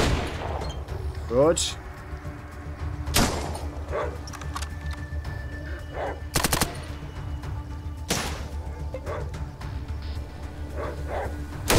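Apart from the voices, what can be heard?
gunfire in video game ATOM RPG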